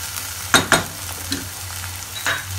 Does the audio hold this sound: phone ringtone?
no